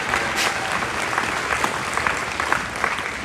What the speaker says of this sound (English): a big round of applause as well.